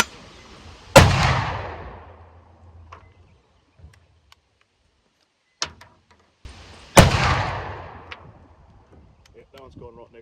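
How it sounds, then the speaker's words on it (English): A side-by-side shotgun fires two hand-loaded slugs, each a loud close boom with a long echoing tail, spaced several seconds apart, with faint clicks and a brief voice between them. "So let's fire the right barrel now and see where it's hitting."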